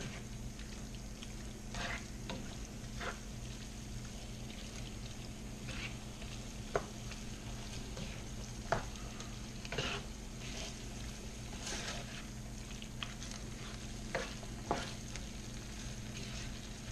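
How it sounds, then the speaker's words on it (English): Steady sizzling of food frying in a pan, a constant crackling hiss with occasional sharper pops, no voices. "Here it's sizzling."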